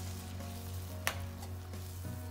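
Chilli prawn curry sauce with soy sauce simmering in a pan, giving a steady close sizzle and bubbling with a brief louder crackle partway through.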